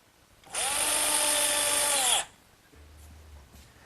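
A power drill drives 1 1/4 inch galvanized screws into wood in a single loud, steady whirring burst of about one and a half seconds, followed by quiet handling noise.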